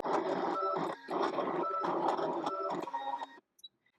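A craft cutting machine drawing a stitch line with a pen: a whirring mechanical motor sound moving in stop-start strokes with short pauses, close and steady, ending in silence.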